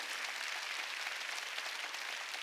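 A church congregation claps at a Sunday worship service, a steady dense wash of applause from many hands with no one speaking over it.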